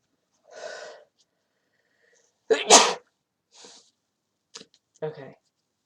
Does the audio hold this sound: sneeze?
yes